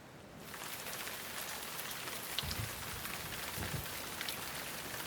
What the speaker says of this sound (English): It is raining hard here.